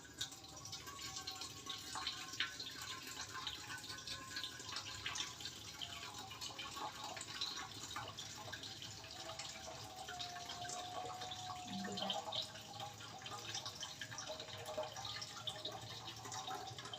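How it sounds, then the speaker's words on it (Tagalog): Water pours and trickles steadily into an electric cooker, a continuous splashing flow at moderate volume with faint clinks. "Tapos lagyan na natin ng tubig."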